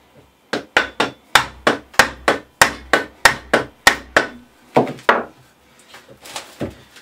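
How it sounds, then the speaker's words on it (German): Hammer tapping a Vespa PX 150 crankshaft into its bearing seat during engine assembly, a rapid series of about a dozen sharp, evenly spaced metallic knocks, close and loud, then a few scattered lighter taps. "schleife das etwas mit dem Hammer ein."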